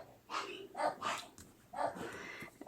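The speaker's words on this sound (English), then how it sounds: "He's the deeper bark that you hear." An old dog barking, four deep, gruff barks in two quick pairs with a short pause between, fairly faint and somewhat distant, with no talk over them.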